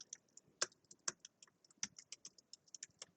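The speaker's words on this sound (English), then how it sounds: "So I'm going to type it here." Keys clatter on a computer keyboard in a quiet room, a run of close, crisp taps at an uneven rhythm with a few louder strokes, no talking.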